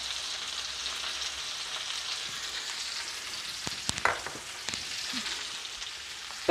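Chicken drumsticks fry in a pan, a steady bright sizzle with a brief burst of crackling and clatter as the pieces are turned.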